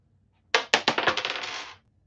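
Dice rolled and clattering to a stop at a live sports card break, a quick series of sharp hard clicks and bounces that tumble into a softer rattle, close by and alone for a little over a second.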